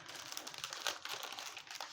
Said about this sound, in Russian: Упакована в еще один пакетик.